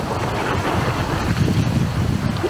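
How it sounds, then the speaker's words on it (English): Big ocean wave rolling onto a Lofoten shore in winter, a low rumbling surge over steady wind noise buffeting the microphone, swelling toward the middle. "Every so often you get a nice big wave coming in here."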